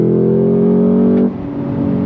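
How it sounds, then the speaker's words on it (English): The supercharged LT4 V8 in a 2025 Cadillac CT5-V Blackwing Precision with a manual transmission holds a loud, steady rev with a strong low drone, then briefly drops in pitch and climbs again, with no one talking. "The sound of that LT4 Supercharged V8"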